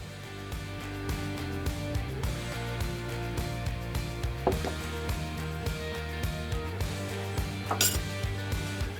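Rapid metallic clinking of a whisk against a bowl while whipping homemade mayonnaise, a steady beating rhythm with occasional sharper knocks, close and fairly loud, with no voices.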